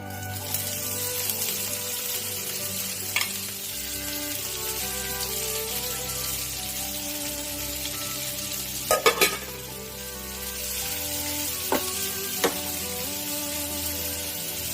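Sliced onions fry for a prawn dopeyaja, a loud continuous sizzle under steady stirring, with a few sharp clinks of a utensil against the pan midway and near the end.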